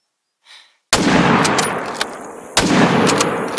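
Two loud, sharp hunting-rifle shots in the video game theHunter: Call of the Wild, each cracking out and then rolling into a long echoing tail over open ground, with a faint softer noise just before the first.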